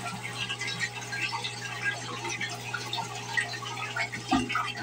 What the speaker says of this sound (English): Alright, flush part three.